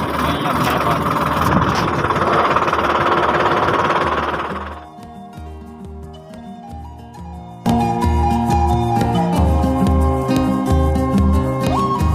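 A tractor engine runs on a farm at a sesame field, a loud steady low rumble and chug throughout, shifting pitch and rhythm partway through as if revving or changing load.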